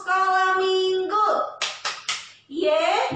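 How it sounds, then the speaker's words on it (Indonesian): A group of children at a Sunday school service sing and chant a short rhyme, then strike three sharp, evenly spaced group claps in rhythm before the voices come back in. "Tepuk sekolah minggu."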